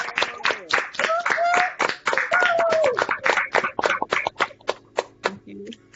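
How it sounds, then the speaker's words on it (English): Participants on a video call unmute and clap together for a presenter at an online academic symposium, a dense burst of overlapping claps that thins into a few scattered hand claps, mixed with brief cheering voices. "Go ahead and unmute yourselves to give Jackelin a round of applause"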